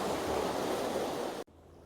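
Water pours from a canal lock into a side pound beside the Staffordshire and Worcestershire Canal, a steady broadband rushing roar that cuts off abruptly near the end, leaving a quieter trickle.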